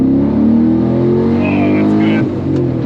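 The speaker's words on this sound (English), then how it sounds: "I want this high revving Porsche motor." Porsche 911 engine revving high, a loud, sustained mechanical drone close by that rises and holds, with voices speaking over it.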